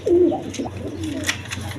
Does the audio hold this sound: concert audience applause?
no